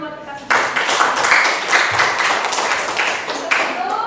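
Students in a classroom clap together, a dense, steady burst of hand claps that starts abruptly and continues close and loud for several seconds, with voices mixed in underneath.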